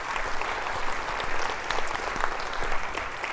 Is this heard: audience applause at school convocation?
yes